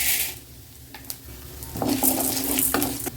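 Urad dal and chana dal sautéing in a pan for perandai chutney, a hissing sizzle broken by repeated scraping and clinking strokes of a spatula against the pan, close and fairly loud.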